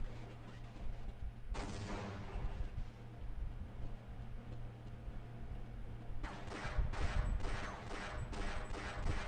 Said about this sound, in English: I forgot they throw grenades